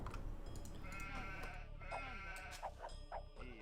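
Several sheep bleat in a video game over a busy background of game sounds and low rumble. The bleats come as short, separate, nasal calls near the end.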